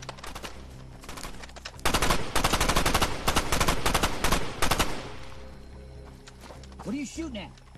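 Rapid bursts of gunfire from a film action scene, loud and dense for about three seconds, with quieter scattered shots before and a voice briefly heard after the shooting dies down.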